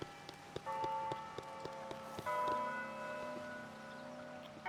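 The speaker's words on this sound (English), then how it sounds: "I've noticed the clock chimes and the bells rather a bit loud." Clock chimes and bells in the Disney Dreamlight Valley video game, a series of bright sustained bell tones that ring out in overlapping layers, with a second chime entering midway and lingering at moderate volume.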